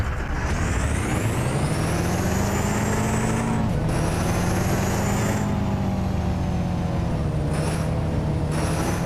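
A steady, loud car engine drone in Car Parking Multiplayer with a rising whine, like a heavy vehicle revving up, holding constant throughout with a few brief shifts in pitch.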